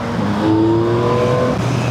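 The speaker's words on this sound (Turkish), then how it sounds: "Biraz rüzgar sesi gelebilir ama motorun sesini de duymanızı istiyorum." A Yamaha MT-09 Y-AMT motorcycle engine holds a steady, close, loud hum after a downshift, its pitch climbing slightly, with wind rush from riding over it.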